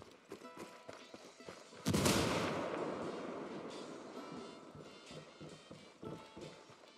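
In Ghost Recon Wildlands, a thrown frag grenade bursts in one loud, heavy blast. A long rumbling decay follows, over a bed of clattering in-game ambience.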